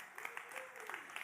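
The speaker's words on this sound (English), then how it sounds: "let's have a huge round of applause for the re-emergence of the Gold Star" Faint, distant audience applause at a live launch event for the BSA Gold Star motorcycle, a brief patter of many hands clapping under a low roomy murmur.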